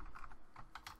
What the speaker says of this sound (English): and we're just going to type